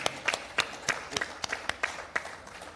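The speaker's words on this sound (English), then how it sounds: "I think, round of applause." Scattered hand claps ring out at the official launch of the Sri Lanka cricket jersey for the T20 World Cup, with a handful of distinct, fairly regular claps rather than a full roar.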